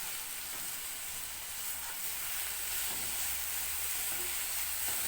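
Steady loud sizzling and hissing from a pan as a dessert mixture with butter is stirred, continuous and close with no breaks.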